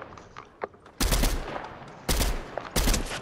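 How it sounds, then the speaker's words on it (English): Machine gun fire in the Fortnite video game comes in three loud, sharp bursts, each lasting a fraction of a second, over faint background game sounds. "Machine gun, you'll get him."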